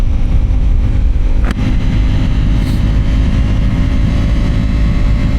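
Ducati Pikes Peak motorcycle cruising on a highway early on a crisp morning, its engine a steady loud roar mixed with heavy wind rush across the whole stretch, with no talking.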